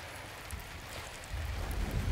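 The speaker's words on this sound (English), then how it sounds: "rain doesn't just go directly down in a vertical line" Steady rain hisses in the video game Death Stranding, a broad, even wash of falling water with a low rumble that swells louder in the second half, with no voices.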